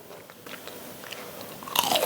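Crisp bites into fried eggplant in a double-fried rice-flour batter, with several small crunches followed by one loud close-up crackling bite near the end.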